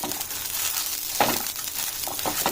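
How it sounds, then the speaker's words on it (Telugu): Mint leaves fry in a pan for pudina pachadi, a continuous crackling sizzle with a few louder stirring scrapes and faint clinks. "పుదీనా అన్నీ డ్రై అయ్యే వరకు మంచిగా వేయించుకొని"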